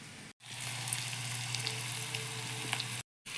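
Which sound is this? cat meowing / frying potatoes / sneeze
frying potatoes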